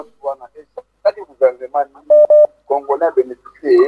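A telephone call connects on a live radio broadcast, with a short steady dial tone sounding twice amid brief spoken exchanges and a chirpy line tone at the end.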